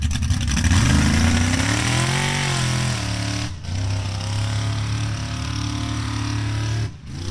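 A mega truck engine revs at a drag strip, rising and falling in loud, close bursts with brief drops between pulls.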